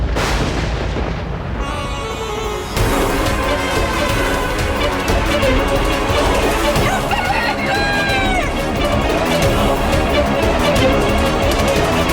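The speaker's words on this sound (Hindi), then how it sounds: "एक साधारण मुर्गे ने मुझे मूर्ख बना दिया।" A rooster crows in the middle of a dense, loud mix of dramatic music and effects from a mythological drama, with a rising crow standing out briefly above the busy background.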